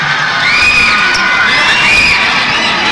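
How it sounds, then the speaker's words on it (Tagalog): Basketball arena crowd during a PBA game, loud sustained cheering and shrill screaming as a player enters the court, a dense wall of voices throughout. "yung hiyawan na naririnig nyo"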